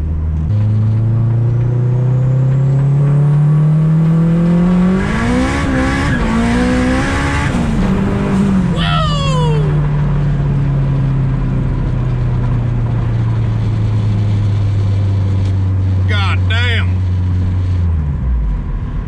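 A turbocharged K20-swapped Civic hatchback with a built engine rolls on in third gear, the engine note climbing loudly as revs rise and then falling back to a steady drone, with a squeal and a whoosh partway through.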